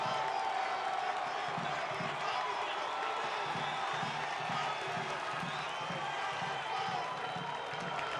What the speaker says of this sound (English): The San Antonio fans have a lot to cheer about.